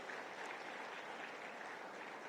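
An audience at a Bharati Vidyapeeth university foundation day event applauds to welcome visiting professors from Norway, a steady even wash of many hands clapping throughout, moderately distant.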